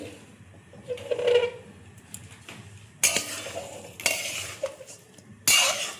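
A coconut filling being stirred in a metal pan with a spoon: close, loud scraping and clinking strokes in bursts separated by quieter pauses.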